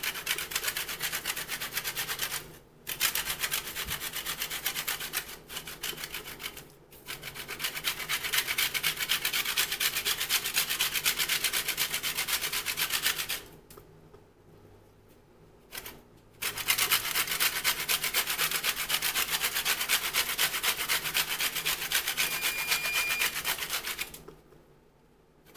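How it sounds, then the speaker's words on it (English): Orange skin rubbed over a grater for zest, a close, dry scraping rasp in long continuous strokes broken by short pauses. "we're just going to lightly grate the skin all off this orange"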